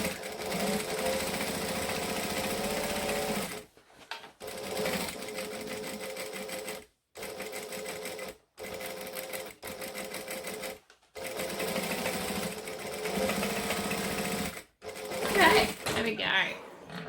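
Sewing machine stitching along piping on a boom box airliner cabin bag, rapid close whirring runs broken by several short stops, with a voice talking over parts of it.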